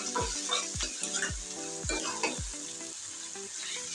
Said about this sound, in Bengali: চিংড়ি মাছটা আমি পেঁয়াজের তেলের সাথে ভেজে নেব